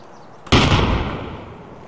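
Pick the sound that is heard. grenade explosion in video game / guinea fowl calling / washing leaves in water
grenade explosion in video game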